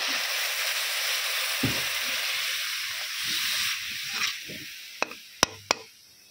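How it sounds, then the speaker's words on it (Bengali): Shrimp malai curry masala sizzles in a pan after a little water is added. A steady, close hiss runs throughout, broken by soft stirring sounds and a few sharp clinks of a spoon against the pan. "জল দিয়েও মশলাটাকে আরও কিছুক্ষণ খুব ভালো করে কষিয়ে নেব"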